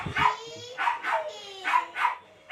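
A dog barks four times at a home, sharp and fairly close, with short pauses between barks and a brief low thump at the start.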